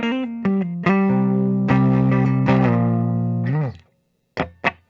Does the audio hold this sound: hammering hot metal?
no